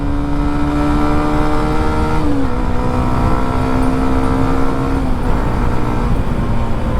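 A Hero Xtreme 125 motorcycle engine accelerates loudly and up close, its steady drone rising and dipping in pitch as the rider shifts through the gears.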